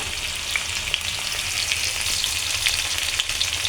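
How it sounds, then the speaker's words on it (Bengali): Green chilies and chopped onion fry in hot oil, giving a loud, steady sizzle with small crackling pops scattered throughout. "তেল গরম দিয়ে দেব কাঁচামরিচ একটু দিয়ে দেবো"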